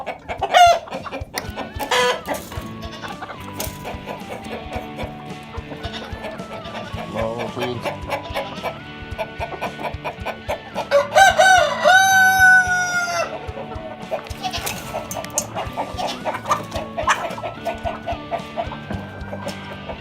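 A flock of farm chickens clucks steadily and close throughout, with a loud rooster crow rising over them about midway before the busy, overlapping clucking carries on.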